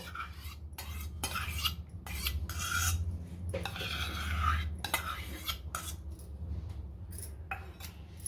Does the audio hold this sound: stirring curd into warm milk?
yes